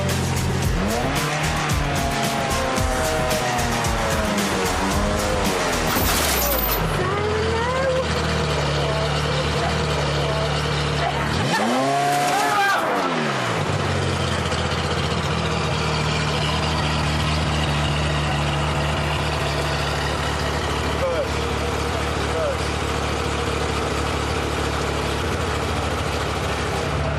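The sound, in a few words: car driving around a race circuit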